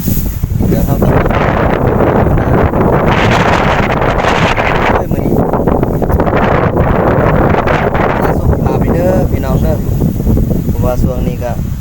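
Cold outdoor wind buffets a microphone in a steady, loud rumble at a rural field hut, while someone talks over it.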